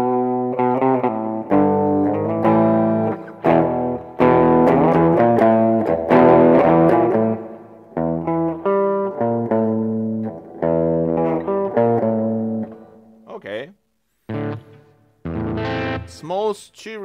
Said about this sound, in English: Vintage echo.